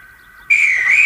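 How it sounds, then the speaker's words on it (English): A railway guard's whistle blows at a station, one loud shrill steady blast cutting in sharply after a faint high tone and holding to the end. "The replica listened and waited for the guard to blow his whistle."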